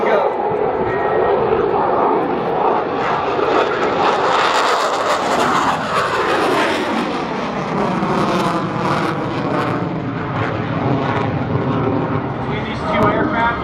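Aircraft roar past at the Camarillo Air Show, a loud continuous engine drone with a Doppler sweep as they fly by, and crowd noise faint underneath.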